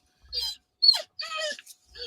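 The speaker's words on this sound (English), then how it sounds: "I hear a dog." A dog whimpers and whines in several short, high-pitched bursts indoors, with brief pauses between the cries.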